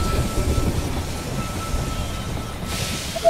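A train pulls into a station in the strategy video game They Are Billions. A low rumble of rolling wheels runs throughout, with a hiss near the end and a short chime as it arrives.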